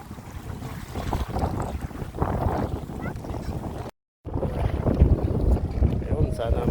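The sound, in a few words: boat on water with wind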